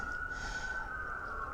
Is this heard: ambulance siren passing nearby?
yes